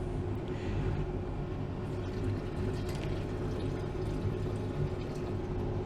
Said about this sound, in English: Now what we'll do is add some more distilled water and some more nitric acid